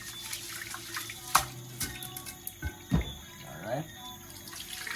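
Rice being washed under a running tap in an outdoor cookup, water splashing and trickling into a pot with clinks and sloshes, close by, with someone briefly speaking.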